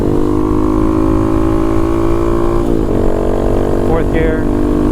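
A Honda Monkey motorcycle engine running steadily and shifting up through its gears, a continuous loud droning hum that dips and changes pitch at the shift.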